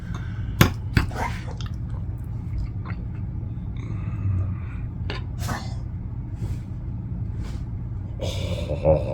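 Someone quietly chews a treat topped with apple butter syrup containing apple chunks, soft close mouth sounds and a few sharper bites over a low rumbling background.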